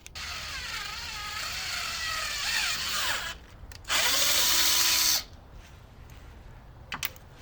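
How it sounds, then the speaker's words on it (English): A power drill whines steadily for several seconds, stops, then bursts again for about a second, followed by a few light clicks and taps, while drilling a hole in a Coleman B200R minibike rear cargo rack. "I'll probably just drill another hole in the top there"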